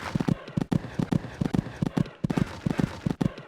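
Horse hooves cantering in the horse game Equestriad 2001, a close, steady rhythmic clip-clop of hoofbeats that keeps going without a break.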